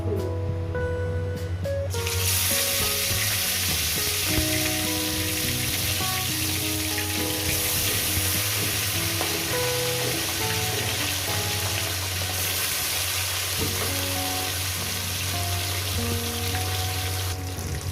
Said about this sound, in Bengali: তেলটা আমার গরম হয়ে গেছে এরপর এক এক করে দিয়ে দেবো মাছের পিস